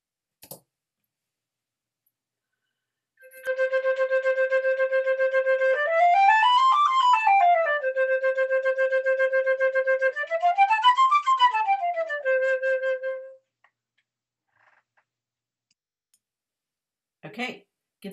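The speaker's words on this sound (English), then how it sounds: "first note of the scale, then get a running start and double tongue the scale" A wind instrument plays a double-tongued scale exercise, rapid repeated notes running up and back down twice, close and steady. Brief talk comes just before and after the playing.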